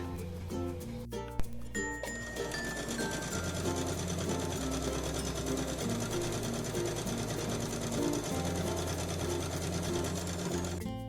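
A sewing machine stitching a waistband belt onto a skirt, a rapid steady mechanical whirr with brief pauses and a clink near the start, close and continuous.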